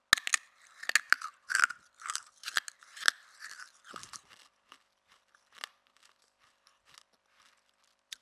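A character in Fortnite crunches and chews an item, giving a rapid series of crisp bites that start loud and dense, then thin into sparse, quieter crunches with no talk.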